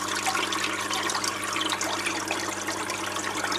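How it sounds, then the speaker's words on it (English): An internal power filter in a goldfish aquarium agitates the water, making a continuous close bubbling and splashing rush at an even level with no breaks. "this agitation is provided by an internal filter, a power filter"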